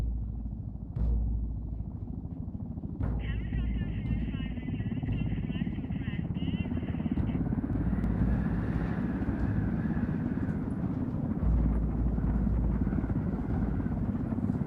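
A helicopter in the video game Ghost Recon flies with a deep, steady rotor thrum and engine drone that runs continuously and loud, while radio-style talk plays over it.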